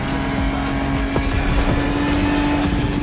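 A Ford Bronco driving in The Crew Motorfest video game on Oahu, a steady droning engine hum with a constant tonal note and road noise, loud and unbroken throughout.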